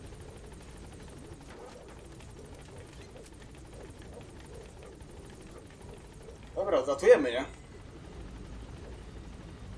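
A helicopter in Metal Gear Solid V: The Phantom Pain gives a steady rotor drone throughout while someone talks over it, and a brief louder burst of game sound rises near the end.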